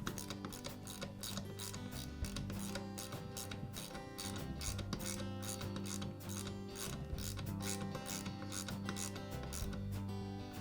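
Lock nut being tightened on a Skil Skilsaw armature during repair, a faint, continuous run of ratcheting clicks and metallic rubbing with no talking.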